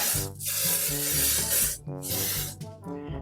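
A hand sprayer misting garden plants beside a small squash vine, giving several loud, close hissing bursts, each a second or so long, separated by short pauses.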